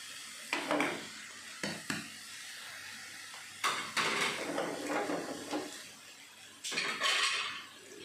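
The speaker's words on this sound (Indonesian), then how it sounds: "Kita aduk dulu ya." Vegetables tossed with coriander, stock powder, salt and sugar in a pan, scattered clanks and scrapes of a utensil against the metal over a soft sizzle, several distinct knocks spread across the stretch with no talk.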